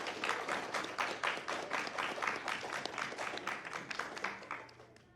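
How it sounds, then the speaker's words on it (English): Audience clapping steadily at a cosplay competition and show, a dense, continuous round of applause lasting several seconds and tapering off at the end. "Give him a round of applause."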